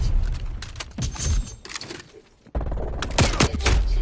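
Gunfire in a Nintendo Switch shooter match, loud bursts of rapid shots in clusters with a brief lull in the middle before the firing resumes.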